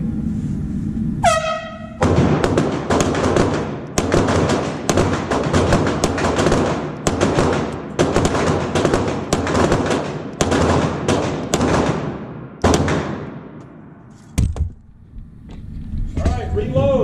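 Rapid pistol shots from Glock handguns at an indoor shooting match ring out in loud, closely spaced strings, roughly a dozen sharp reports over several seconds. A few isolated shots follow in the reverberant range, with a short beep at the start.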